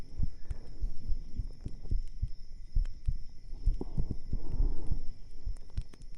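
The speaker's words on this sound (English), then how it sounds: "Maybe my heartbeat's just really loud" A heartbeat picked up by a 3Dio ear-shaped microphone pressed to a chest, with loud, close, regular double thumps repeating under a faint steady hum.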